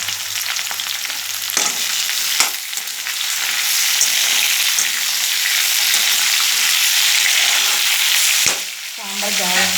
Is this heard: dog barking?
no